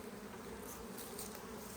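Honey bees buzz around a brood frame pulled from a thriving hive, a quiet, continuous drone of many insects with no voices.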